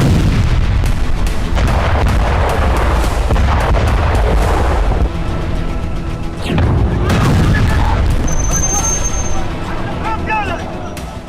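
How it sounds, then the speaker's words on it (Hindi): Bombardment by the IDF in Lebanon, a series of heavy booms and sharp blasts in irregular bursts over a dense rumbling background, loud and close, with some whistling sounds near the end. "आईडीएफ की बमबारी में लेबनान की धरती बुरी तरह जल रही है।"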